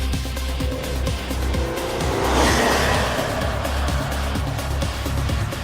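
A 2015 Mercedes-Benz CLA 200 CDI 4Matic with a rough 100 kW diesel engine, heard while driving as a steady low drone mixed with road and tyre noise, close and continuous with no talking.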